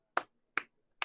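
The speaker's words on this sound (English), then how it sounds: "I'll give it a slow clap." Three crisp, isolated hand claps come at an even, unhurried pace, in a slow clap.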